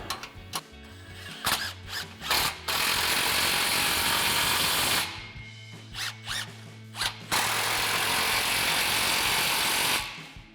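A hand ratchet tightens exhaust clamps at the muffler inlet pipes of a RAM 1500 fitted with a Flowmaster Outlaw dual exhaust. Close, rapid clicking comes in several bursts separated by short pauses.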